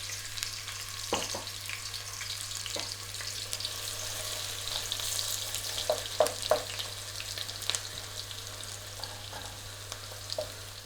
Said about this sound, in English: Basically I just want to caramelize these onions.